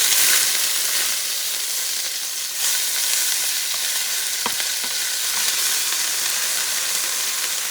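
Sofrito hits a hot pan with a loud, continuous sizzle and hiss of frying, steady and close throughout, with a faint clink of a utensil partway through.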